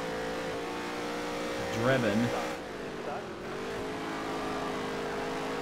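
NASCAR race cars in a racing video game hold a steady engine drone, with one car rising in pitch as it revs and passes close by, loud and continuous while someone speaks briefly.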